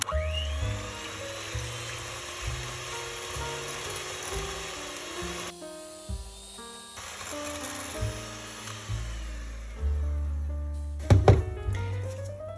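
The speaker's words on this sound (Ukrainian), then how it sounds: "Збивати починаю на швидкості по наростаючій. Спочатку мінімально, далі до максимальної." An electric hand mixer whips cream, its motor whine stepping up in pitch through several speed changes from low to maximum, with clattering beaters near the end and no talk.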